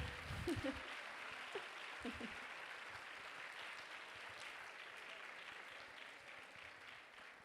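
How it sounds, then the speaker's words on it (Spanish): Applause from a seated audience at a talk, a steady wash of many hands that stays fairly quiet and even throughout, with a few brief louder bits near the start. "¿Queréis aplaudir?"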